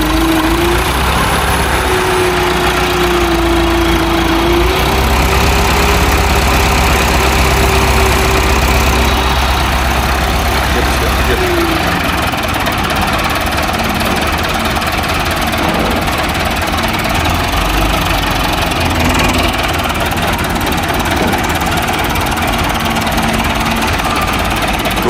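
Massey Ferguson MF265 tractor engine idling, a loud steady diesel chug with a knocking rhythm, close by and continuous, with a faint wavering tone early on.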